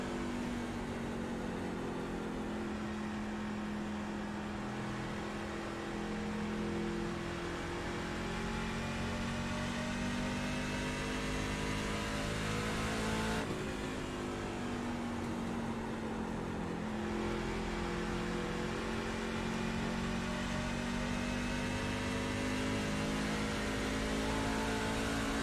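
Engine noise from a racing video game drones steadily for about 25 seconds at moderate volume, the pitch slowly rising as the car accelerates, with a brief shift midway, and no speech over it.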